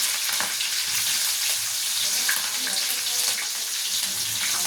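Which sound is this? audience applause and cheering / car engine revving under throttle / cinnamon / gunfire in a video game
cinnamon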